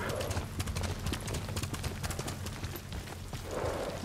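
Horse hooves gallop at a steady, fast clip-clop rhythm in the Ghost of Tsushima video game, loud and continuous throughout with low rumbling game ambience beneath.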